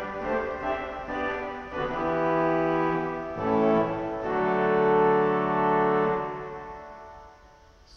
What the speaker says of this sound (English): This is the 8-foot horn,